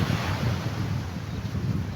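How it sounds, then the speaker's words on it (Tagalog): Ocean waves rolling onto a beach at sunset, a continuous broadband wash of surf with a heavy low rumble and wind buffeting the microphone, steady throughout. "Umaalon."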